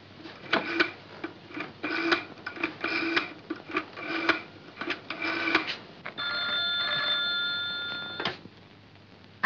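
Telephone in an old Egyptian comedy film, a series of ringing bursts with short gaps, fairly loud and near, ending in one longer ring before falling silent.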